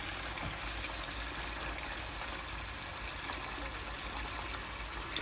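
Water pours steadily into a Kangen K8 water machine during deep cleaning, a continuous trickling, splashing flow heard close and fairly quiet with no talking.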